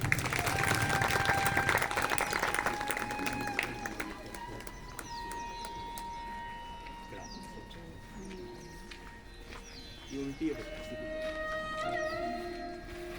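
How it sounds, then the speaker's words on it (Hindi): Applause and clapping from a crowd at a summer camp closing ceremony, loudest at the start and gradually thinning, with voices and background bustle underneath. "सभी लोग हमारे बच्चों के लिए तालियां बजाने लगते हैं।"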